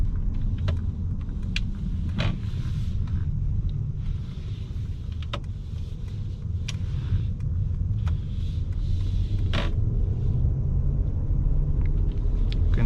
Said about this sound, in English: Try some acceleration. It holds gear a little bit longer, but not much more.